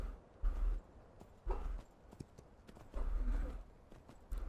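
A horse walks in the Myth of Empires video game, hooves clip-clopping in uneven clusters over low ambient rumble, fairly quiet and close, with no talk.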